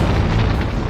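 A deep, rumbling explosion effect stands in for a solar flare on the sun, loud and sustained through the whole second with no pause.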